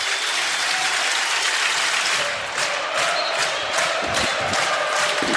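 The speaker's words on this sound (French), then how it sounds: "Écoutez ces applaudissements." A football stadium crowd at a Valenciennes versus Auxerre match applauds loudly and steadily, a dense wash of clapping with a few cheers rising through it and no pause.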